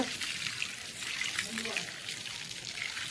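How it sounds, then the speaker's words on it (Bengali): Water poured from a hose onto the base of a mango tree, a steady hissing trickle and splash that runs continuously up close while a person talks over it. "এই যে জল দেওয়া হচ্ছে গাছে হ্যাঁ অনেকটা জল দেওয়া হয়ে গেছে"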